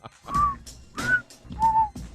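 Three short tonal whistles, each rising and holding briefly, spaced about half a second apart over low background murmur.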